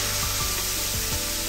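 Grated coconut with milk and cream is stirred in a pan with repeated scraping strokes, a close, steady rhythmic rubbing over a continuous background hiss.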